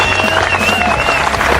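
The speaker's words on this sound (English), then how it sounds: "clapping for you are your brothers in Christ." A group of men applaud together at a welcome gathering, giving a short, dense burst of steady clapping with a faint tone ringing behind it.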